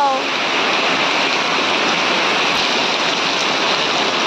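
Dense, roaring monsoon downpour in a Konkan village fills the whole clip, a constant loud hiss with no breaks.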